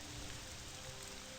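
Steady rain falls across the open world of the video game Morrowind, a dense, even hiss of drops on surfaces with a faint low rumble beneath, continuous and unbroken with no talking.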